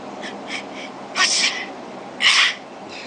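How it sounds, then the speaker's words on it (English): Sneezing sounds played from a prank phone app, two short bursts about a second apart at moderate volume over a low steady hiss, with faint softer sounds in between. "he'll keep on playing those sneezing sounds."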